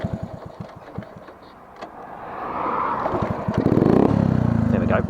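After a soft, slightly hesitant start with a freshly adjusted carburetor, a warmed-up motorcycle fires and settles into a steady, close idle that grows louder toward the end.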